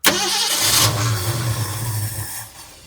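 A one-owner 1969 Ford Mustang with 59K original miles, sitting over 30 years, cranks and fires with an abrupt loud catch, then settles into a rough, uneven idle that gradually fades and sags toward the end.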